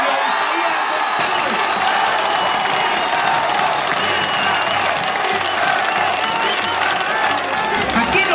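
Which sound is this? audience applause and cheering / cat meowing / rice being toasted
audience applause and cheering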